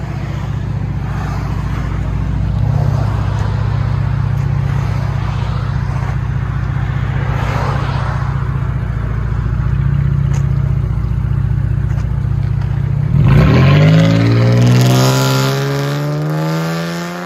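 A 2019 Dodge Charger GT 3.6L V6 with factory converters and X pipe drones loudly at idle, then revs up sharply near the end with a rising, raspy exhaust roar, close by.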